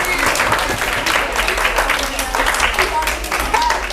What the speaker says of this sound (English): give our volunteers a big round of applause